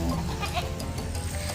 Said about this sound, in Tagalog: Yan na yung mga kambing natin.